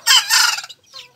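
A young Japanese bantam rooster gives a single short, scratchy crow, close and loud, trailing off into a thin, broken final note.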